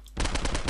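A loud burst of rapid automatic gunfire in Postal 2, shots firing in quick even succession after a short quiet start.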